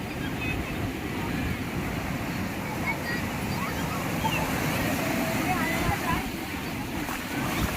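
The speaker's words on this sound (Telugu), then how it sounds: "అలలు చాలా పెద్దగా ఉన్నాయి." Continuous rumbling roar of large ocean waves breaking nearby on a beach, mixed with wind buffeting the microphone and occasional voices underneath.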